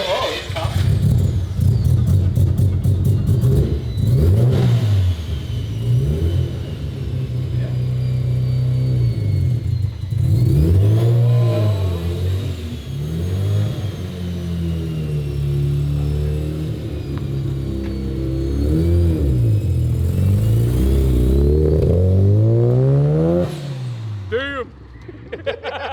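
A four-rotor Mazda RX-7 FC, its clutch being smoked, revs and accelerates through repeated rising and falling sweeps, loud and close from inside the car, with people talking over the engine throughout.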